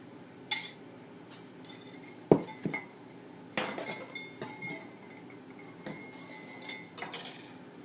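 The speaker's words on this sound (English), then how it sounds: "I'm mixing the sugar, the egg, and the vanilla" Sugar, egg and vanilla being mixed in a bowl for banana bread, with irregular clinks and scrapes of a utensil against the bowl, some sharper knocks, fairly close and quiet.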